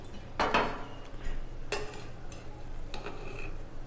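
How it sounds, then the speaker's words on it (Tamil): Kuska biryani rice being stirred with ghee in a pressure cooker, a few soft scraping and clinking strokes of a spoon against the pot, close and fairly quiet with pauses between. "இப்போ இதை நல்லா கிண்டிக்கலாங்க."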